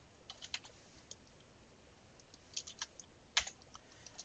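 Soft, close typing on a computer keyboard while entering code, with scattered keystrokes and short quick bursts, the sharpest cluster near the end, over faint background hiss.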